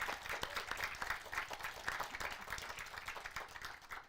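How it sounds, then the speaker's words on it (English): Audience at an International Women's Day panel discussion gives a round of applause, rapid individual claps forming a steady, moderately faint patter with no voices over it. "We can do a round of applause now"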